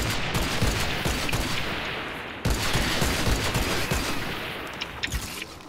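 A semi-automatic sniper rifle in the video game Fortnite Save the World fires in a dense, continuous barrage of loud gunshots that sounds like a sustained firefight, with no talking over it.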